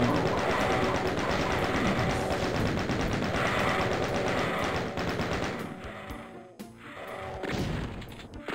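Rapid, dense weapon fire from the video game DOOM 2 rattles loudly and continuously, then thins into scattered shots and thuds during the final seconds.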